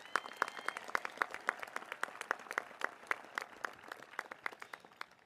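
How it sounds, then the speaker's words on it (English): A crowd at a school commencement ceremony applauds a retiring staff member, a steady patter of many hands clapping at moderate distance for several seconds with no voices. "District Network Administrator Ginny Wexler, can we have a round of applause for her, please?"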